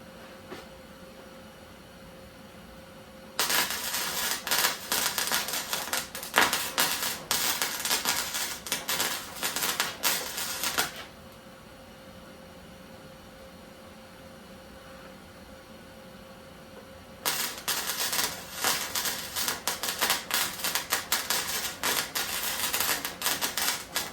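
A MIG welder makes two long bursts of dense, buzzing crackle, each lasting several seconds, with a quiet pause between them. No one talks.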